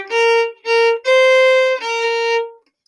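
A single violin plays one blues measure as four bowed notes, two short ones then two long ones, close and alone with nothing behind it.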